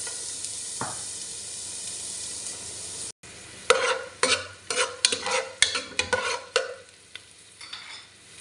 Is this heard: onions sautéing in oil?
yes